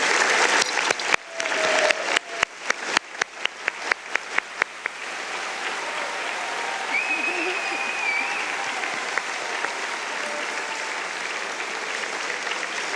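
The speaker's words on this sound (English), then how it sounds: "please stand so we can applaud you" At an art prize finale, an audience applauds standing student filmmakers: loud, distinct, rhythmic claps at first that merge into a steady, diffuse wash of clapping from a large room, sustained to the end.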